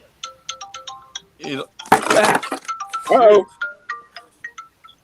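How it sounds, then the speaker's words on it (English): A phone plays a melodic ringtone of repeated bright electronic tones during an online video hangout, ringing on and off while people talk over it. "And the phone rings."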